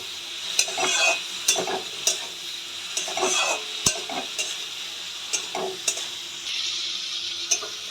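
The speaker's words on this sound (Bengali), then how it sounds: "আলুটা দিয়ে আমি ভালো করে কষিয়ে দেব।" Fried potatoes are stir-fried in a spice masala in oil for a panch phoron rohu fish dish. A steady, close sizzle runs throughout, cut by repeated scraping strokes of the spatula against the pan, with no voices.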